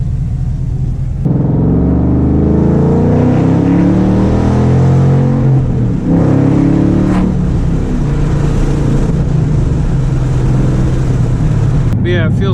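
A car with an Exedy Mach 500 clutch pulls hard under acceleration, its engine droning loud and steady from inside the cabin with a deep rumble as revs climb through the pull.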